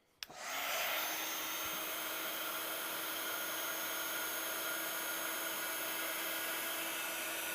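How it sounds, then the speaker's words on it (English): Heat tool switching on with a click and settling into a steady airy whir while heating clear gloss embossing powder on a card, constant and fairly quiet throughout, no voices. "So we will just use our heat tool to do that."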